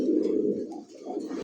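Pigeons of a Pakistani bloodline coo with a low, throaty, continuous rolling call, close and clear, with a brief dip midway before the cooing resumes.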